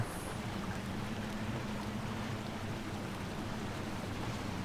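Truck in Spintires pushing through a river crossing on the Coast map, a steady low rumbling engine drone with watery washing noise, continuous and unbroken, no voices.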